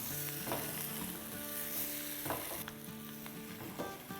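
A spoon stirs aloo ki sabzi in a hot pan right after the stove is switched off, steady sizzling with a few soft scraping strokes, close and without talk.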